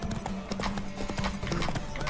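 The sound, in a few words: horse galloping in the video game Witcher 3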